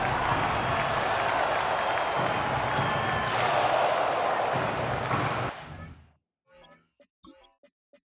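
A stadium crowd of 60,000 at Tottenham Hotspur's ground in a simulated Madden 25 Jets vs Vikings game roars and applauds as a dense, steady wash, then cuts off abruptly, leaving near-silence broken by a few brief sounds.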